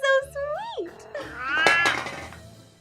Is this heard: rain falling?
no